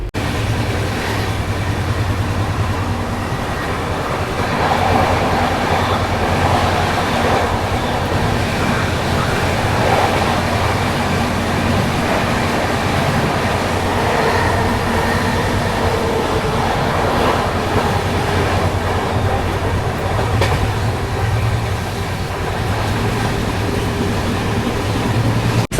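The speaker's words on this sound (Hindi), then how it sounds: "यहाँ पर अपनी दुरंतो एक्सप्रेस चल रही है" The Sealdah–Bikaner Duronto Express rolls along at speed, giving a continuous, fairly loud rumble and clatter of wheels on rails as heard from inside the coach, steady throughout with no break.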